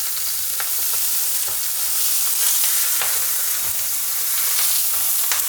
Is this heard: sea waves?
no